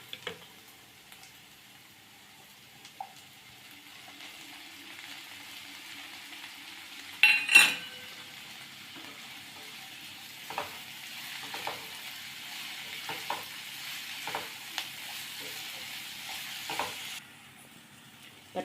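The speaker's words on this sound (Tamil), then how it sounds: "இப்போ தக்காளி சேர்த்துக்கலாம்." Tomatoes sautéing in a pan for a spicy Tamil kara kuzhambu with adders' tongue (pirandai): a steady close sizzle with soft stirring scrapes and one sharper clatter partway through, and no talking.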